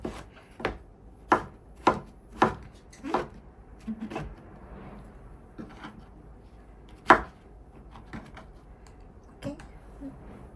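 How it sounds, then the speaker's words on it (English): A knife cuts mushrooms on a cutting board in a home kitchen, giving a handful of sharp, separate knocks in an uneven rhythm, then quieter scrapes and a few more taps. "And then we're going to cut the mushroom like this."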